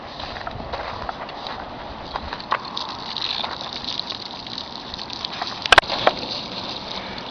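Water gushing out of a tube onto a large hurricane tarp spread across a roof, a steady rushing flow with a few sharp knocks and thumps near the end.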